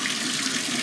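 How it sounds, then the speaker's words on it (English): Bath water gushes steadily from a tap into a tub, a close, loud, continuous hiss and splash with no talk. "she's going to go ahead and get her water started"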